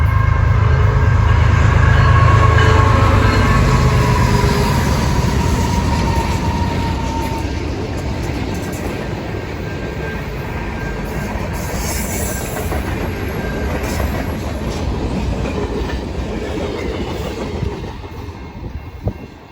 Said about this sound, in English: we catch an unknown CN train with probably the best flash up I've ever